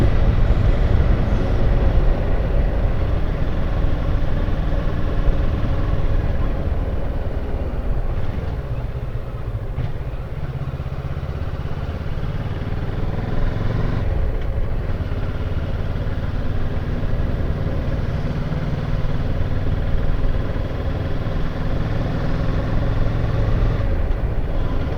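A motorcycle engine climbs a mountain road on the Costa Blanca, giving a steady, close drone mixed with wind rush that barely changes throughout.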